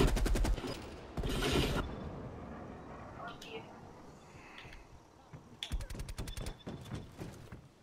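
Rapid automatic gunfire in Call of Duty Black Ops Cold War comes in short bursts, a sharp burst at the start and a longer stuttering volley near the end, with clicky mechanical noises and quieter gaps between.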